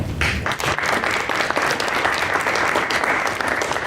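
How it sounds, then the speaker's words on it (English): An audience at a community dialogue meeting on police use of force applauds the mayor with a full, continuous round of clapping lasting several seconds. "Round of applause for the Mayor."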